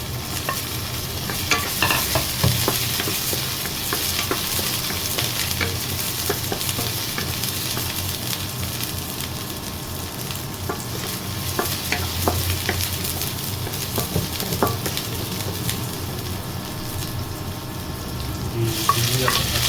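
Garlic, onion and ginger sautéing in hot oil for pork adobo with string beans, a steady loud sizzle with frequent scraping stir strokes throughout, no talking.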